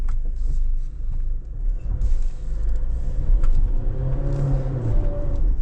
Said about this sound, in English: it's just spinning the wheels quite a bit